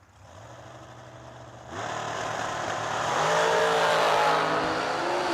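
A dragster's engine runs at a drag strip, a low rumble that jumps louder partway through and then rises again into a stronger, steadier roar, with no voices over it.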